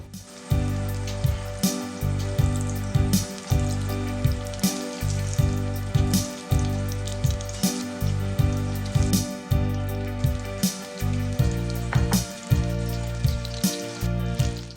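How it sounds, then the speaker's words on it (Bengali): Chicken pieces fry in hot oil in a kadai, a continuous crackling sizzle overlaid by a strong rhythmic low thumping beat that repeats steadily through the whole stretch. "কড়াইতে তেলটা গরম হলে চিকেনের টুকরোগুলো এক এক করে দিয়ে দেব।"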